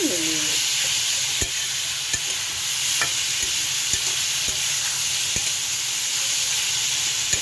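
Shrimp fry with bottle gourd in a pan, a constant loud hiss and sizzle with regular scraping strokes of a spatula stirring, close up and without talk.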